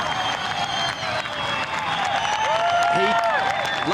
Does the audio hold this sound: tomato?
no